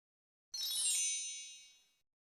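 A bright, high chime from an iPhone ringtone played through its speaker during a used-phone check, a single tone that rings clearly and fades out over about a second and a half, alone in silence.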